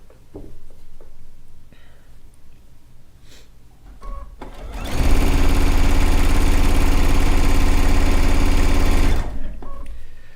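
A sewing machine set to a 1.8 mm stitch length pieces fabric strips for a stone log cabin quilt, running in one loud, steady, fast whirring burst of about four seconds after quiet handling noises.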